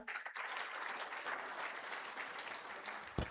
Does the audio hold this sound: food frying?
no